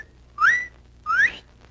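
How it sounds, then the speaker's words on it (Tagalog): Two sharp, rising whistle signals, each short and clear, sound one after the other with a brief pause between them, used as a cue in a Filipino comedy film. "Pag pumito ka ng ganyan, yan, nangangahulagan, andyan na."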